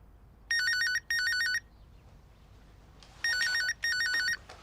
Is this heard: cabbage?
no